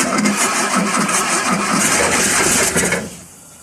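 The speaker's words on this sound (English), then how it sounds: "Oh, it fires to life." A car engine with the ignition switched on cranks and catches, roaring loudly and raggedly for about three seconds before cutting out abruptly into near silence, with no talking.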